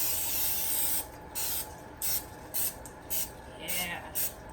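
Pam cooking spray hisses into a cake pan in a series of about seven short bursts after one longer spray, close and crisp, with a voice talking in the background.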